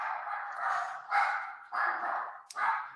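A pet dog barks repeatedly in a room where someone has just come in, giving four loud, close barks in an uneven rhythm with short gaps between them.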